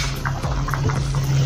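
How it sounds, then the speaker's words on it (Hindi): Water boiling in a covered pot on a stove while khichdi and misal are cooked, a steady close bubbling and rumbling with a constant low hum throughout. "पानी उबलने लगा है।"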